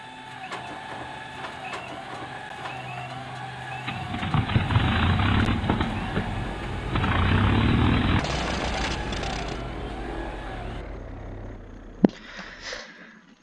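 WWII-era aircraft engine in an Arma 3 flying mod, a droning propeller engine that rises and swells in the middle, then cuts to quieter hum with a sharp click near the end.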